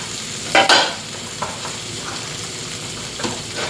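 Garlic is stir-fried in a wok until golden, giving a steady close sizzle broken by a few sharp scraping stirs of a spatula.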